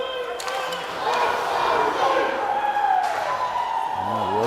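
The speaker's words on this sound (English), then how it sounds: "The Oakley's parents and cheering section got a little bit of a chant going on." A parents' cheering section chants in unison at a JV ice hockey game, a steady crowd roar in an arena, heard from a distance under the game's ambient noise.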